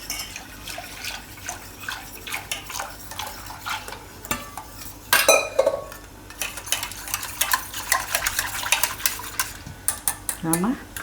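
Buttermilk is poured into a white kadhi mixture of buttermilk and gram flour, with a soft liquid splash, repeated clinks of a utensil on a steel pot and stirring throughout.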